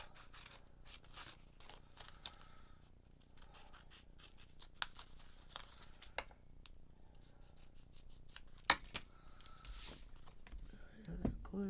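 Scissors cutting out a paper stamp for a crafting card, a long run of quiet close snips and paper rustles, with soft talk in places.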